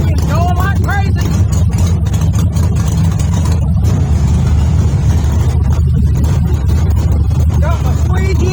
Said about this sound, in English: That pinion's going like crazy.